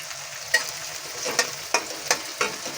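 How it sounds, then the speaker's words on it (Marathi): Chopped onion with curry leaves sautéing in a pan: a steady close sizzle broken by sharp spatula scrapes and clacks about every half second to second, with no voices. "आता कांदा आपल्याला चांगला परतून घ्यायचा आहे"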